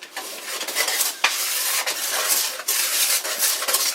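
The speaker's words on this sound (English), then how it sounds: "Just whisk your dry ingredients together" Whisk scraping and beating dry chocolate cake ingredients in a bowl, a continuous brisk, gritty swishing with short rhythmic pauses, close and fairly loud.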